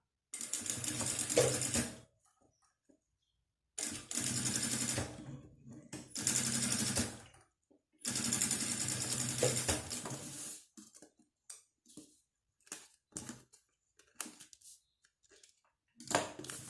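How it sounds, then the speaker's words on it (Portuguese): A sewing machine stitches the sides of a fabric pocket for a small toiletry bag, running in several loud bursts of a few seconds each, separated by pauses and light handling clicks. "Então a primeira costura que eu vou fazer vão ser as 2 laterais do meu bolso"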